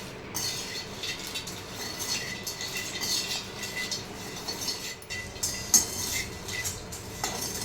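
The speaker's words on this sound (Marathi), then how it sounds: "असं छान खालीवर करून मी दालचिन भाजून घेते" Small cinnamon pieces dry-roasting in a pan as they are stirred, a continuous close scraping and rattling with frequent light clinks of the utensil against the metal.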